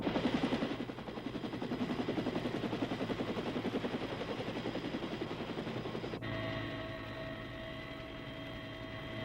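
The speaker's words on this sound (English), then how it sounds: "Purple smoke marks the landing zone as the medevac helicopter arrives a few minutes later" A medevac helicopter arrives at a landing zone marked by purple smoke, its rotor thudding in a loud rapid pulse that holds steady and then drops into a smoother whine as it settles.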